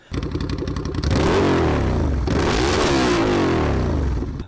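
A Ducati Scrambler motorcycle fitted with a new exhaust revs hard, starting with a choppy idle burble, then surging into loud sustained throttle blips that rise and fall, close up with no talking.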